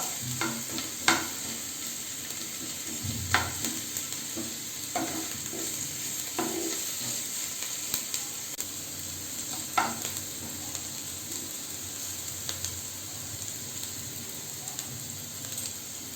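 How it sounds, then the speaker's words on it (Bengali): Chopped onions lightly frying in a pan as the base for chicken soup, a soft even sizzle running throughout with scattered spatula scrapes and taps, fairly quiet and close, no voices. "হালকা করে ভেজে নিতে হবে"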